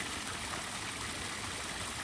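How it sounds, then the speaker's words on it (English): Water pours steadily from a golf course drainage outfall fed by lateral drains, a dense, constant rushing flow heard up close with no voices. "Can only be positive, that much water getting off the golf course."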